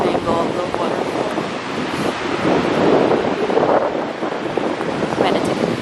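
Waterfall in Lauterbrunnen, Switzerland: a constant broad rushing roar with heavy wind buffeting across the microphone and voices faintly audible.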